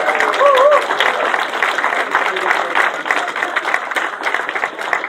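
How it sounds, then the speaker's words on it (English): A speedway stadium crowd at a sidecar championship final applauds the riders, a steady spread of clapping with a voice talking over it throughout. "Give them a round of applause, please, for all of you."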